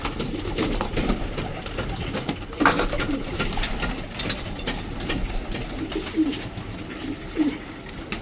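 Pigeons coo repeatedly inside a loft, soft rounded calls recurring every second or so over steady low background hum, with no talking.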